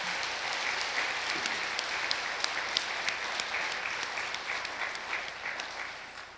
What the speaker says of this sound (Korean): 부모님께 힘찬 박수라도 한번 올려드려야 되지 않겠습니까?